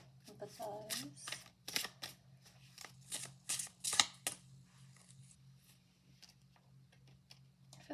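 Tarot cards shuffled and laid out by hand, giving a run of crisp, close riffles and slaps that thin out into quieter rustles.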